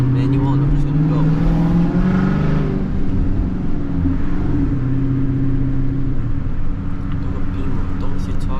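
A Dodge Charger in manual mode accelerates hard from inside the cabin, its engine a loud, sustained rising drone that holds steady for several seconds with talk faintly mixed in.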